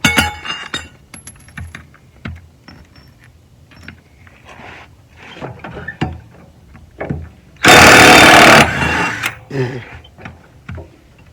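A 15/16 socket on an impact wrench working under a mower, one loud rattling burst of about a second, surrounded by clinks of metal tools and handling noise.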